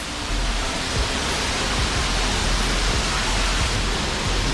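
A steady, loud roar of rushing water from Steindalsfossen waterfall in Norway, dense and unbroken throughout, with no voices.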